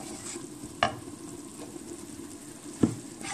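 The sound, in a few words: lightly frying ground spices with golden-brown onions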